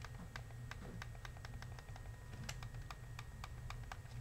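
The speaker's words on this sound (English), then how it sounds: "So if you can hear it, here's the left one that was broken." Repeated clicking of a broken left bumper button on an Xbox 360 controller, about a dozen light, evenly spaced clicks over a steady low hum, close up with no talk.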